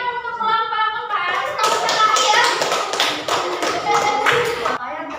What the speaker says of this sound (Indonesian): Iya, oke, tepuk tangan untuk kelompok keempat